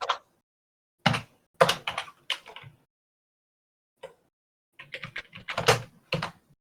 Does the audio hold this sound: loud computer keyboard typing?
yes